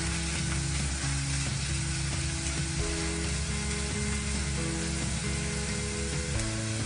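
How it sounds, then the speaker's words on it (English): White onions and celery sizzling loudly in a hot pan, a dense continuous frying hiss with occasional stirring scrapes throughout, close and steady with no talk. "So I'm gonna put in white onions into this. There we go. Now I'm just gonna give that a stir."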